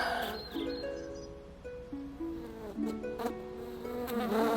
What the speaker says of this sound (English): It's like the buzz. I don't like the buzz.